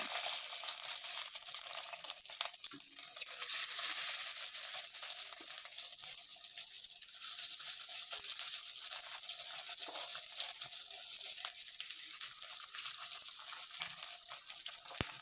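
Fish roe fritters frying in hot oil in a kadai, a continuous bright crackling sizzle with small pops throughout, steady and fairly close.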